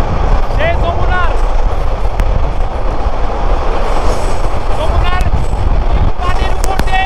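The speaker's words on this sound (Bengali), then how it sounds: "পানির উপর দিয়ে কিন্তু আমাদের ট্রেনটি চলে যাচ্ছে। লালমনি এক্সপ্রেস, বাংলাদেশের সুপারফাস্ট এক্সপ্রেস ট্রেন।" The Lalmoni Express rolls over the Jamuna rail bridge, giving a loud, constant roar and rattle of train wagons. Brief sharp metallic squeals and clanks sound close by, with voices faintly audible underneath.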